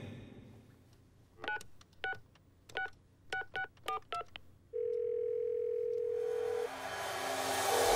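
A series of telephone keypad tones beeping in quick irregular groups, followed by a steady ringback-like tone, then a rising hiss of line noise.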